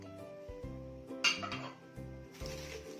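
Vegetables, fried eggplant and potatoes, are set into a Pyrex glass dish with clinks and knocks of glass and utensils over a steady low hum, with a sharper clatter midway.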